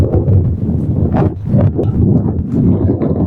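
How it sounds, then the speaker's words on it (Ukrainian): Gusty wind buffets the microphone with loud, rumbling low-frequency bursts that rise and fall unevenly. "Вітряно"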